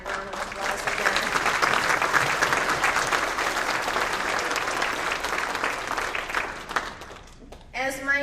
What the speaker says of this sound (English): So if we could give our WRA staff a round of applause again.